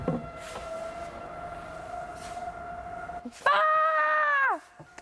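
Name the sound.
tornado warning sirens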